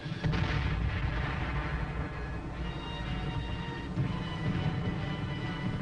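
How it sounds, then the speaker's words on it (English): Artillery and mortar fire rolls across a wartime Korean battlefield as a dense, continuous rumble of heavy booms and blasts that merge into one loud, unbroken roar. "Aiding the infantryman in his dangerous mission are the mortars and the artillery, which bring down a curtain of death just in front of the advancing troops."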